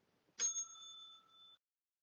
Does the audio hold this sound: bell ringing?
yes